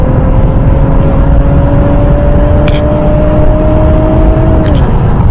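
An Infiniti Q50 Red Sport 400 accelerates on kickdown from around 60 km/h near 3,000 RPM, a loud steady engine drone rising slightly in pitch before easing off near the end.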